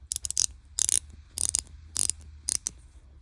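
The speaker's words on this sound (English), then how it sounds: "Also comes with a little 1/4 inch ratchet for super tight places. It's got like super fine teeth" A Wera 1/4 inch ratchet with very fine teeth clicks in five short, rapid bursts, crisp and close, with brief pauses between them and no talk.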